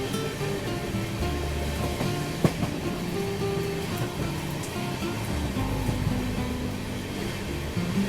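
The Kaifiyat Express pulls into a station with a continuous low rumble and rattle of rolling carriages, close and steady, with an occasional clank.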